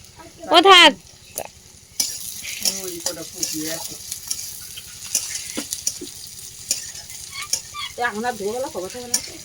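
Panch phoron spices crackle in hot oil in a kadai with onion and garlic. A close sizzle and hiss sound over a low steady hum, with brief stirring clinks and voices speaking now and then.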